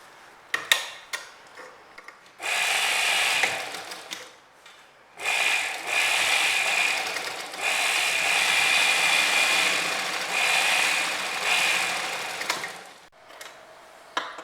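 A sewing machine stitches a girl's skirt in bursts of rapid mechanical whirring and ticking, with short pauses and taps between runs, close and moderately loud.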